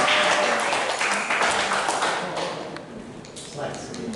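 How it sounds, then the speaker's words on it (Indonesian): A crowd claps together in a dense burst of applause that gradually thins and softens, with a voice speaking over it. "Tepuk tangan, saudara."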